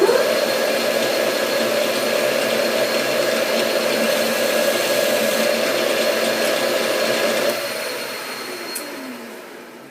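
A lathe runs with a steady whirring hum while breaking the edge of a tailstock chuck mount, close and continuous, then winds down and fades in the final seconds; no voices.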